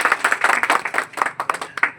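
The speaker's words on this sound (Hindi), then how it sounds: "तालियां" Quick, close clapping from trainees at a fire safety training session as a CO2 extinguisher seal is broken, a scattered run of sharp hand claps with uneven rhythm.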